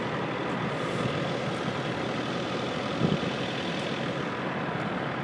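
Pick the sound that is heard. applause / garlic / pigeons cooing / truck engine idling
truck engine idling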